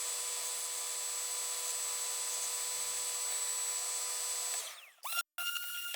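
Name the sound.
sander shaping a pom-pom's edges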